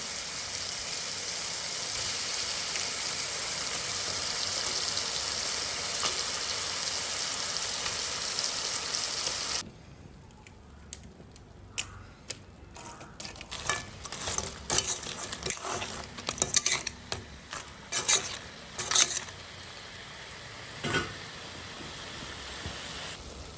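Crab simmering and being stirred in a sodhi curry: a loud, steady sizzle for about ten seconds, then a quieter bed scattered with sharp crackles and clinks of stirring.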